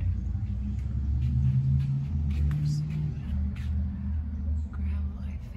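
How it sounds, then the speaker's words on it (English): A loud car passes near a suburban yard, a low rumbling swell that builds and fades over several seconds, with quiet low voices underneath. "Did you hear a loud car, Pippa?"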